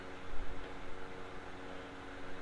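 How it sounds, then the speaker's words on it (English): An electric fan runs in the background of a living room, giving a steady, even whoosh of broadband air noise with a faint low hum and no talk over it. "Excuse that fan in the back of me because it got hot."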